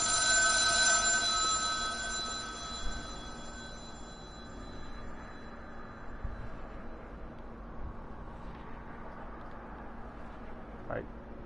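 A telephone ringing in the game The Town of Light fades out at the start, leaving a low ambient hum with faint scattered sounds.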